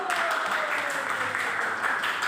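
Classroom applause from students at a teacher's practice lesson: a steady wash of clapping throughout, moderately close, with a faint voice or whistle-like tone gliding underneath.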